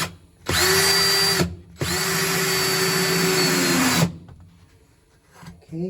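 A power drill drives screws into a baseboard, two loud, close, high-pitched whirring runs, one short and one longer, with a brief pause between, then quiet handling noise.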